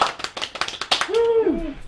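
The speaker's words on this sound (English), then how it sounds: "Everybody, clap your hands." A burst of hand claps, several quick overlapping claps, followed by a rising and falling whistle-like tone over a crowd.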